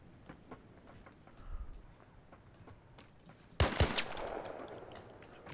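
Gunfire aimed at the player in the video game ARC Raiders: faint scattered shots early on, then a loud close burst of rapid fire with a lingering crackling tail.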